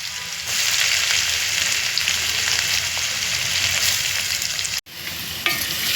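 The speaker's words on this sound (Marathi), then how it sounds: "कांदा आता परतायचा आहे आपल्याला तेलात" Chopped onion fries in oil with mustard seeds, cumin and a bay leaf, giving a steady hissing sizzle throughout, broken by a short sudden gap near the end before the frying sound resumes.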